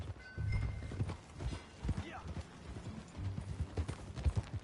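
Rhythmic hoof clip-clops of a horse moving at pace, fairly close, with low rumbling underneath and a brief whinny-like tone, from the video game Red Dead Redemption 2.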